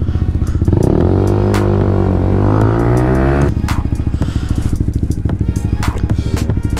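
A motorcycle being ridden home, its engine loud and close, holding a steady drone that rises in pitch, then settles into a rapid pulsing idle-like throb for the rest of the clip, with no talking.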